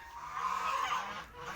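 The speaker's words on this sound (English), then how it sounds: "You can hear they're so loud, they're so hungry. I have the geese and the ducks over here" Hungry farm geese and ducks honk loudly in a brief nasal burst of overlapping calls, close by with no speech.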